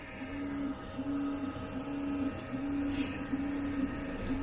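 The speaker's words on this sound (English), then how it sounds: "Bed will move into position, nozzle will drop down to the plate, and it will start its print." A 3D printer starting a print, its stepper motors whining in short repeated bursts as the bed moves into position, a soft, tonal, rhythmic hum in a quiet room.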